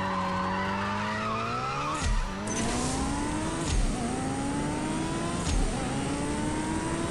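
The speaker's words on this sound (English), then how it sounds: "Look how fast that car is" Car engine in the CSR 2 racing game revving hard through several rising gear changes, each shift marked by a drop in pitch and a short burst, loud and continuous with no voices.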